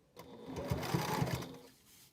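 A sewing machine runs a short burst of stitching on a fabric packing cube, a steady mechanical whir with rhythmic needle thumps, close and clear, trailing off at the end.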